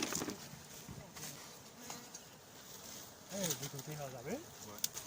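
Bees buzzing around a Langstroth hive box set out during a bee extraction from a huge coral rock, a faint, thin hum near the hive, overlaid by someone talking and a rising and falling engine-like drone.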